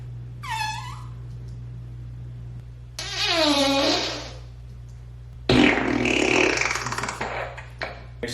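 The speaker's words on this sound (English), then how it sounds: "add a various amount of fart sound effects just throughout the beat" Cartoonish fart sound effects layered over a steady low music beat: a short squeaky toot, then a longer wobbling blast, then a loud rasping burst, each standing out clearly against the continuous bass drone.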